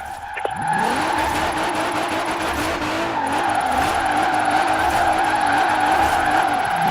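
A Forza Horizon 4 car drifts with steady tire squeal and an undulating engine note at high revs, a loud continuous skid that wavers as the car slides through the turn.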